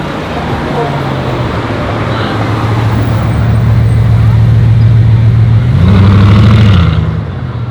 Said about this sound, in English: The next Bugatti in town.